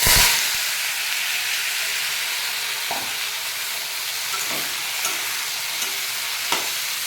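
Bitter gourd dropped into hot oil in a wok, a loud burst of sizzling at the start settling into a steady, dense hiss with a few light clicks of the utensil.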